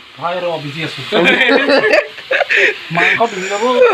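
Steady sizzling of meat and onions frying in a hot pan, heard under a person talking throughout.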